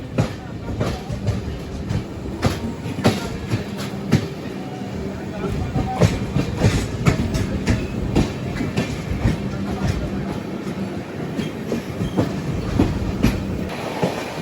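A dense, steady rumble with rhythmic clickety-clack of wheels runs throughout on board the Kanyakumari–Pune Express as another train passes by, with faint voices underneath.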